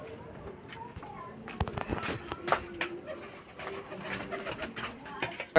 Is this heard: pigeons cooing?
yes